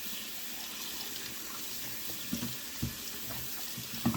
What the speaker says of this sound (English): I'm actually washing it with warm water. I've set my tap on warm water.